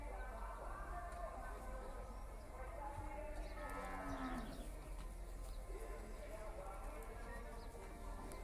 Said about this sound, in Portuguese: Olha o boi amarelo lá